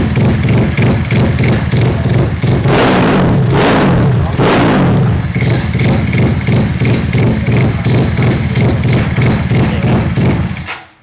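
A custom motorcycle engine with a dry clutch runs close by in a steady, loud, pulsing rumble, with a couple of swelling surges midway before the sound cuts off abruptly at the end.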